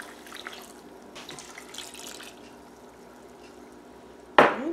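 Water from a tap splashing briefly into a pot for raisin cookie filling, a short loud burst near the end after quieter kitchen sounds.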